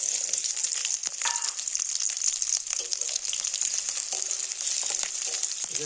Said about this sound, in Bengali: আমার তেল গরম হয়ে গেছে এখন পেঁয়াজটা ভালো করে ভেজে নিই